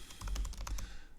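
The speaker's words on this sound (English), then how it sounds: "typing a bunch of code." Rapid keystrokes clatter on a computer keyboard as code is typed, a dense run of close, crisp clicks for about a second with no talking.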